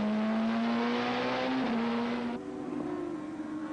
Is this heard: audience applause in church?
no